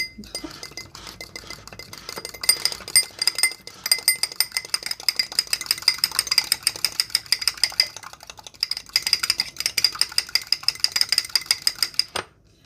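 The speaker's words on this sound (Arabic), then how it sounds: "الان غادي نخفق" Whisking a single egg and honey mixture for crisp honey biscuits in a bowl, a fast, steady metallic clinking and scraping of the whisk against the bowl, close and continuous with brief pauses, no voices.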